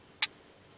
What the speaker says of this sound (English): As you can hear the clips.